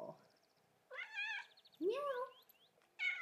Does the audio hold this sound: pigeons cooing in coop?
no